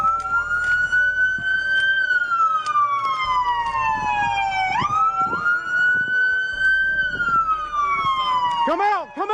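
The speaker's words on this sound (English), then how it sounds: "It's sirens." Police sirens wail and sweep up and down continuously, loud and near, with a rapid yelping burst near the end and engine rumble underneath.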